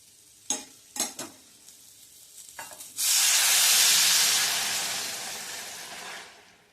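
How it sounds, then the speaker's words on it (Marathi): Several stirring clunks, then a sudden loud sizzling hiss as boiling water is poured into a hot pan of raw mango pickle, fading gradually over a few seconds. "आता ते पाणी मी ह्यात घालणार आहे."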